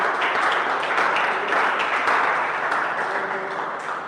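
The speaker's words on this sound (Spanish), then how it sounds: "Un aplauso para Jesús." A church congregation breaking into sustained applause for Jesus, a dense wash of many hands clapping that fills the room and tapers slightly toward the end, with no talking over it.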